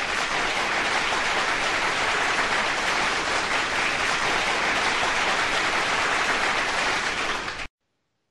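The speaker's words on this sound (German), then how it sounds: "Wir müssen uns auch selbst applaudieren können." Applause from a studio or gathering, a steady, even wash of clapping that continues without a break and then cuts off abruptly just before the end.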